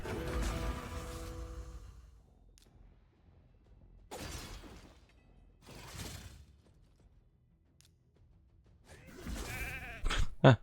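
Sheep bleating in the Raid Shadow Legends video game, several separate bleats spaced a couple of seconds apart, with a sharp clatter near the end and no talk.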